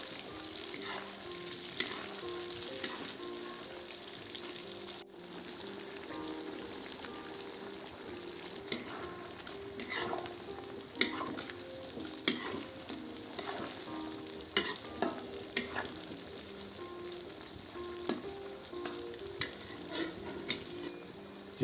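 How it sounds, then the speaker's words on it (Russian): Chopped onions sizzle and fry in a kazan for Tashkent wedding plov, a steady crackling hiss with repeated scraping and clinking stirring strokes throughout, close and moderately loud, no talking. "теперь добавляю в казан лук. Перемешаю содержимое казана и буду жарить"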